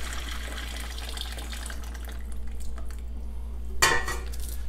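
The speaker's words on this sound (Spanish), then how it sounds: "le vamos a echar lo que licuamos para que se guise" A blended mixture is poured into a pot of stewed carrot and celery for shrimp broth, with soft liquid sloshing and light utensil clatter, then a sharp clink near the end.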